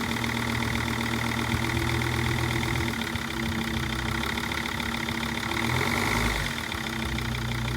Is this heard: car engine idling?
yes